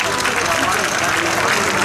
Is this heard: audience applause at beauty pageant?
yes